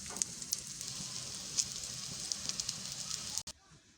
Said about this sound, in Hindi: इसी तरह सारी टिक्कियों को फ्राई कर लें।